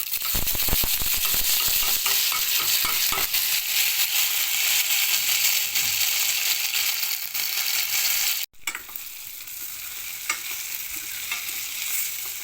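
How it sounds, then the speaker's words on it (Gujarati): Mustard seeds crackle in hot oil with asafoetida for a tempering before boiled gunda go in. A dense, close sizzle carries sharp rapid pops early on, then runs steadily, breaks off briefly and resumes. "રાઈ તતરી જાય એટલે એની અંદર બાફેલા ગુંદાનો વઘાર કરી લેવાનો।"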